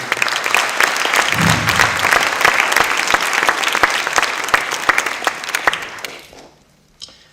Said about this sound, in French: Merci Chantal, merci de l'applaudir.